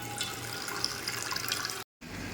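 Water being poured into a pot while cooking khichuri, a steady close splashing pour that cuts out briefly near the end before resuming.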